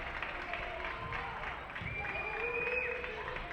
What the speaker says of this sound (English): Crowd trying to help the Redmen here.